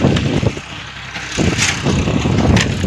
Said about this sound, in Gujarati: ટ્રેક્ટર જો હાલે છે